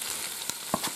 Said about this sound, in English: now we're going to add some tomatoes